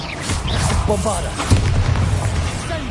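A Bombarda explosion spell booms in Hogwarts Legacy during a fight with spiders, a heavy blast with a low thumping rumble that stays loud across the clip, mixed with game effects.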